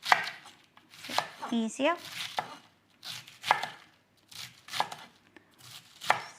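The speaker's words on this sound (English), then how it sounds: "So now I'm gonna start cutting our cabbage. So just cut the cabbage into tiny slices." A sharp knife chops cabbage into tiny slices on a board with quick, crisp strokes in short bursts and brief pauses between them. A voice briefly speaks partway through.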